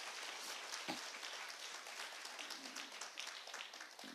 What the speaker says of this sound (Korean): 우리 박수로 하나님께 영광 드리겠습니다